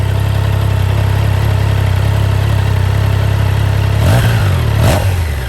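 A Triumph Tiger Sport 660 three-cylinder touring motorcycle idles steadily up close, then gives two quick throttle blips near the end that rise and fall sharply.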